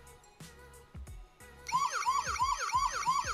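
A Neo CoolCam alarm siren's police-style tone wails in rapid repeating sweeps, loud and close, following a few short clicks at the start.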